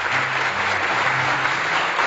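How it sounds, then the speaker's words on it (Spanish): A short burst of dense applause, many hands clapping steadily and loudly for about two seconds without pause. "Un aplauso."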